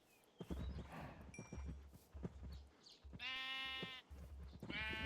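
In the modded Minecraft game RLCraft, sheep let out two distinct bleats, one long and a shorter one at the end, after a run of clip-clopping hooves and soft footsteps over a constant low hum.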